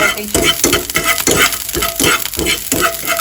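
Onions frying slowly in a pan over a low gas flame while a pizza topping is prepared: a close, steady sizzle broken by regular scraping stirs and light clinks of the utensil against the pan.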